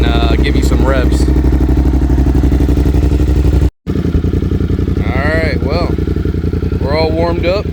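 A Suzuki GSX-8S with a Delkevic full exhaust, baffles still fitted, idles loudly and steadily at close range, with a brief cut and a few quick rising throttle blips toward the end.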